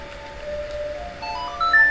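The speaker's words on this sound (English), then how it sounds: "That's the song of double time, which you can use to skip to night of the first day" Ocarina melody of the Song of Double Time from the Zelda game Majora's Mask, a short rising run of clear tones that enters over soft background game music.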